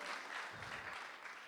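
A community town hall audience with Congressman Jared Huffman applauds for a district director, a brief burst of many hands clapping at moderate level that tapers slightly toward the end.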